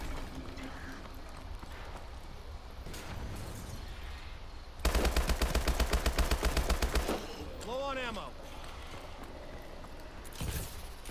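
A light machine gun in a zombie video game fires one loud, rapid burst of about two seconds, rising above quieter game ambience with occasional footsteps and stray effects before and after.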